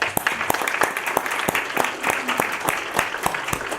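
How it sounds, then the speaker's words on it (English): An audience at a county freeholder reorganization meeting bursts into sustained applause, many hands clapping steadily in a room for several seconds. "I want to have an applause for that"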